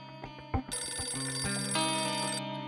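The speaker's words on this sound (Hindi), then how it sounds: "राधा बुआ, सुहाना भाभी, सुहाना का फोन आया लगता है।" A telephone rings in a Hindi TV drama household scene, a loud electronic tone repeating steadily amid background music swells, with no speech.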